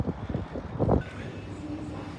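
A subway train in a station rumbles close by, with heavy low clatter and a few loud bursts of wheel noise that settle into a steadier hum and faint squeal, with no talking.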